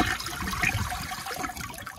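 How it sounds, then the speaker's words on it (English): A 1978 Eljer toilet flushing with a weak, low gurgle and steady trickling water, close by and fairly quiet, with no other sounds over it. "it honestly has a pretty weak gurgle"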